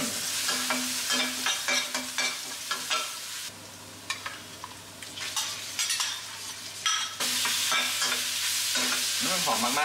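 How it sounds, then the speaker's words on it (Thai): Bean sprouts and pork stir-fry in a hot pan, with a continuous close sizzle broken by scraping and clattering strokes of the spatula tossing the food. "so tonight I'm gonna cook bean sprout with pork menu for you"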